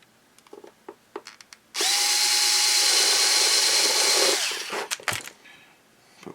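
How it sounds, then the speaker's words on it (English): A power drill bores a hole in the corner of a wooden piece while a Sig Somethin' Extra model plane is built, whining loudly and steadily for a couple of seconds before winding down, with light handling knocks around it. "we're going to drill right here in this corner"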